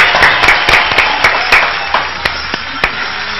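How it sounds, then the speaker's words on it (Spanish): Audience applause during a televised health program, following a ballet dance performance: steady broadband clapping with sharp individual claps standing out, loud and close, over faint musical tones. "tenemos que darle un aplauso fuerte"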